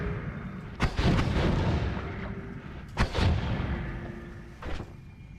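Holy bomb explosions fired from a wand in the game Noita: three heavy, booming blasts spaced a couple of seconds apart, each with a sharp onset and a rumbling decay, heard alone.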